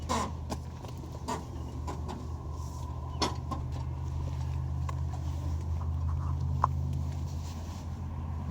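Power mirrors on a 2018 Peterbilt 389 day cab with an X15 Cummins whir in short motorized bursts, several brief clicks and buzzes stepping over a low, steady diesel idle rumble nearby.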